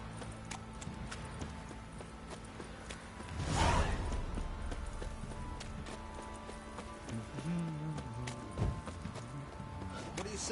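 Horse hooves clip-clop in The Witcher 3 video game, a steady rhythmic clatter at moderate distance with a whoosh midway and voices talking in the background.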